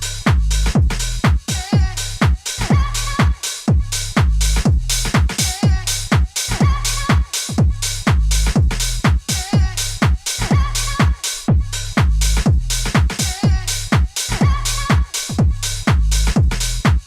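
A steady electronic drum loop pulses with punchy kicks and crisp, ticking hi-hats repeating in a tight rhythm throughout.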